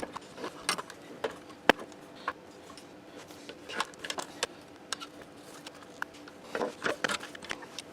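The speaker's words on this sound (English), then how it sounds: "we have to remove this bracket from the motor, and these are all 3/8 nuts" Repeated metallic ratchet clicks and scraping while 3/8 nuts are worked off a motor bracket inside a Speed Queen washing machine, close and uneven in bursts with small knocks and handling noise.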